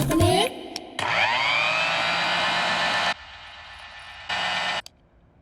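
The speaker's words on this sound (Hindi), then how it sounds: "एक बार मिक्सर ऑन करके सुनाइए" A kitchen mixer grinder runs loudly in bursts, a long steady whirring stretch followed by a shorter one, with a brief starting whine and gaps of near silence between.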